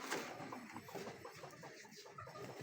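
A large pigeon struggles and clucks close by, giving a quick series of short, throaty clucks and rustles that is loud at the start and then irregular, with no talking.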